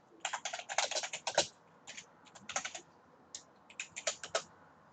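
Fast typing on a computer keyboard, close and clear, in irregular bursts of rapid clicks with short pauses between them and no talking.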